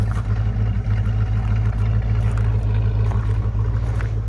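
A 1966 Ford Mustang GT convertible with its A-code V8 runs steadily, a low, even rumble that holds close and unbroken throughout with no voices over it.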